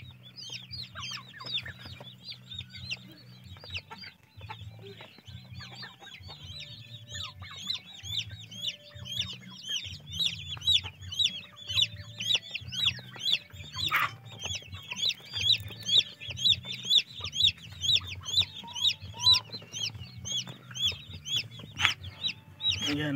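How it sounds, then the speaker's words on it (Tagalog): Broiler chicks chirp in a dense, steady chorus of high, rapid peeps that grows busier and louder over time, with a low hum underneath. "Ito yung nabili namin ng mga sisiw."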